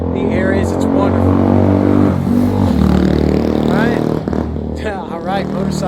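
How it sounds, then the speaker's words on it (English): A motorcycle engine rumbling loudly and close on a mountain road in Langmusi, Tibetan Sichuan, sustained for several seconds with the drone shifting slightly as it passes. "All right, motorcycle."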